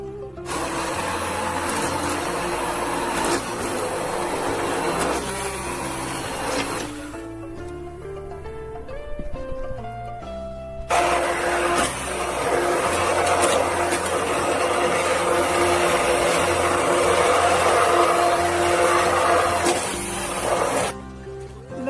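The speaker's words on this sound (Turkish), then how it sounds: "indi blenderdan keçiririk" A loud, steady blender whir blending soaked peaches for nectar runs almost continuously, dropping out briefly in the middle before roaring back on at full strength.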